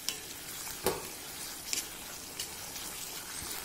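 Tomatoes frying and softening in a pan for Bombay chutney, a steady quiet sizzle with occasional stirring clicks and scrapes, heard up close and alone without talking.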